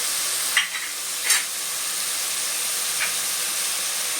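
Cumin, ginger paste and dried chili powder fry in a pan with a steady bright sizzle and hiss, broken by a few soft stirring scrapes, close and continuous, with no talking.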